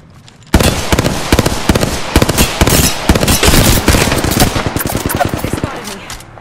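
Rapid, loud automatic gunfire in the Apex Legends shooter bursts in suddenly and runs for several seconds of dense close shots, with distant shots and some talk mixed in.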